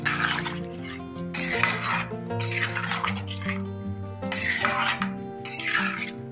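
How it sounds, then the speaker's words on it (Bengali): Potatoes and water are stirred in a cooking pot for aloo posto, with rhythmic scraping and clanking of a spoon against the metal pot repeating in bursts, close and moderately loud with no talking. "এবার সমস্ত কিছু ভালো করে মিশিয়ে নিচ্ছি।"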